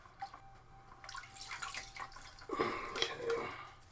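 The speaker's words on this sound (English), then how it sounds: "I'm going to dip the flower back down in the bleach again for just another couple seconds" A plant with root rot is dipped into a bleach solution, giving a few close, small splashes and trickling water over a couple of seconds, with no talk.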